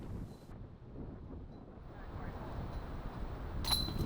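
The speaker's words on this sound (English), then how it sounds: "if he can fight through this wind" Wind gusting across an outdoor disc golf course, a steady low buffeting rush against the microphone with no distinct other sounds.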